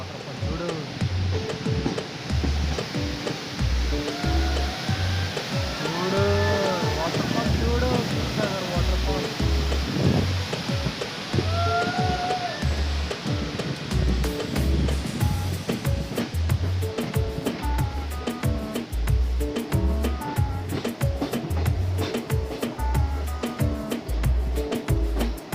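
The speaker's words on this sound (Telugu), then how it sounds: "చూడండి వాటర్ ఫాల్ అసలు ఎంత బాగుందో." Dudhsagar waterfall in Goa roars as a continuous wash of noise heard from a passing train, with the steady rhythmic clatter of wheels over rail joints running through the whole stretch.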